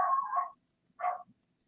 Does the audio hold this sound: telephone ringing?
no